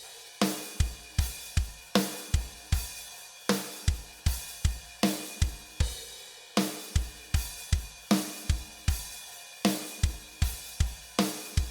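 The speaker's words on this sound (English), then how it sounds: "The first thing that I'm going to add is just a crash on the one." Shoegaze drum beat with a crash cymbal hitting on the one, bright washy crashes ringing out over steady punchy kick and snare hits in a repeating loop, loud and alone.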